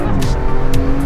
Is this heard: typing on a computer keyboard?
no